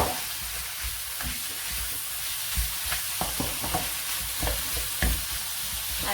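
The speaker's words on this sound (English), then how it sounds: "And you fry it till all the lamb is brown" Lamb browning with garlic in a frying pan, a steady sizzle with intermittent scrapes and clinks of stirring, close and moderately loud, no voices.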